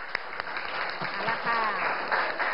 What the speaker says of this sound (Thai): ปรบมือให้กับเพื่อนค่ะ